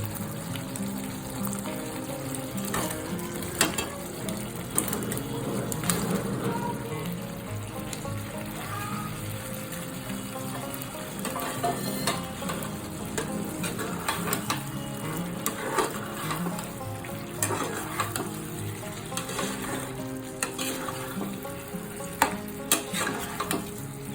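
Chicken pieces go into a frying pan of hot spiced oil for Indian-style semi-gravy chilli chicken. They are stirred, giving a close, continuous sizzle broken by frequent scraping clicks from the spatula against the pan.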